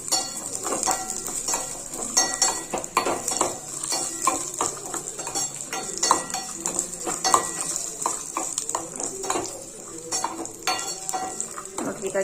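Pumpkin pieces frying in a pan for halwa while a utensil stirs them, steady sizzle under repeated scraping and clinks against the metal, close and fairly loud throughout.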